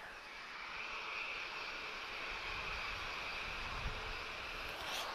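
From inside the cabin, a fixed-wing airliner takes off with a steady, muffled engine roar and a broad rumble of airframe noise, even and continuous, moderately quiet with no voices.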